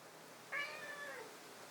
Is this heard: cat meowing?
yes